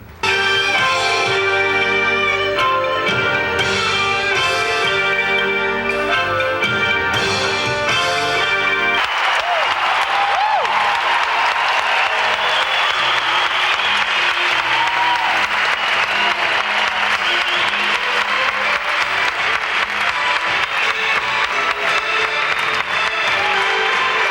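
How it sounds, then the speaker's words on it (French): A circus audience at a 1991 Cirque du Soleil show breaks into loud, sustained applause and some cheering. Bright music plays at first, then dense clapping fills the rest of the long stretch. "Les artistes offrent maintenant leur dernière pirouette au public qui les applaudit à tout rompre."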